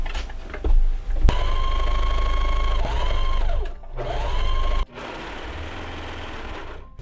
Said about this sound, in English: I'm going to sew this with my sewing machine first